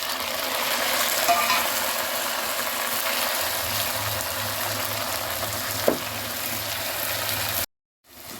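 Tomatoes fry in a pan with onions already cooked golden, giving a steady broadband sizzle throughout, with a low hum underneath and a brief scrape midway before the sound cuts off near the end.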